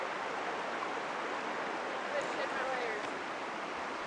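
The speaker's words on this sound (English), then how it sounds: "now we got to do a little bit of a creek crossing here" A mountain creek on a Catskills day hike near Eagle and Balsam Mountains, rushing water making a steady, even hiss with no pauses and no voices.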